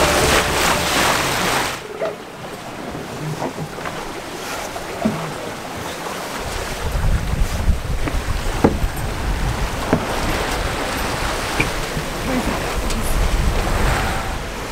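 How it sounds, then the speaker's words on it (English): Sailboat Bacchus under way on a westward overnight passage along the Spanish coast, with a constant rush of water along the hull, breaking waves and gusty wind buffeting the microphone, loud and unbroken. "we're heading west into the sunset, literally sailing into the sunset"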